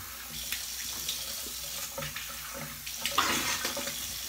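Water runs from a tap as a razor is rinsed during a travel shave, a steady close splashing stream with faint clinks and shifts in flow near the end, fairly quiet and with no talking.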